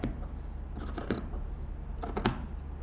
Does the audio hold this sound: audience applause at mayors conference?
no